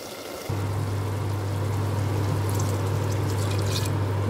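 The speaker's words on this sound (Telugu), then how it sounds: "చూసారా, వాటర్ పోసాను కదా" Water is poured into a pot of spicy mutton curry with drumsticks, producing a steady, close, continuous pouring rush that starts abruptly and runs unbroken to the end, with no talking.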